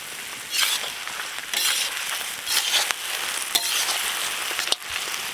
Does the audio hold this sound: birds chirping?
no